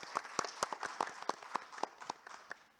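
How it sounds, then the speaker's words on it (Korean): Scattered clapping greets a presenter at an academic summer conference in Korea. It comes as a thin, sparse patter of separate claps from a modest audience, moderately close and fading toward the end. "박수로 맞이해 주십시오."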